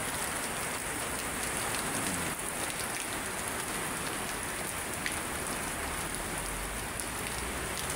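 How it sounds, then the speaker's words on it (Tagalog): Steady rain pours down at Manila Bay without a break, a dense even hiss of drops striking a surface close by, with no voices. "Pumapatak ang ulan."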